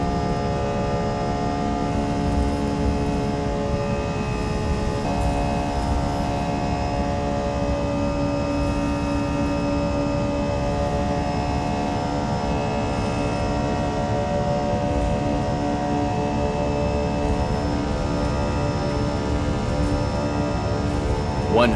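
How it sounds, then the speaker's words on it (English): Airbus A320 jet engines at full takeoff throttle in X-Plane 11, heard as a steady, even droning hum with layered tonal whine that holds unchanged throughout. "let's go ahead and go for full throttle."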